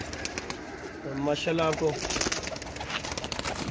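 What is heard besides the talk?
pigeons cooing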